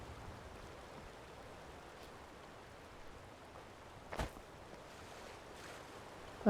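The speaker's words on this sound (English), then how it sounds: "Yeah, see a river." A river in the Skyrim video game flows with a faint, steady wash of water noise, quiet and continuous, broken by one brief sharper splash-like sound.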